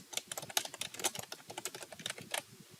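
Rapid, uneven clatter of keys on a computer keyboard, close and clear, with a steady run of quick taps and a few louder strokes, no voices.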